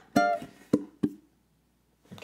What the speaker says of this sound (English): Just want two muted plucks of the strings to give a little bit of a cool percussive sound.